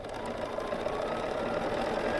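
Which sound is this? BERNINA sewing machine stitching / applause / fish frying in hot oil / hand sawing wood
BERNINA sewing machine stitching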